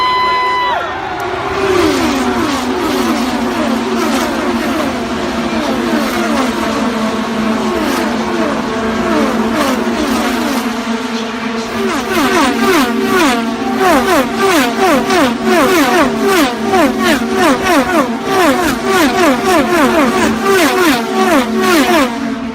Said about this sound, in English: You can feel those cars going, and they're that close to them.